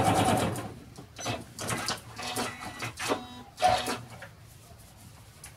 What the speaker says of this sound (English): You can sew in this direction.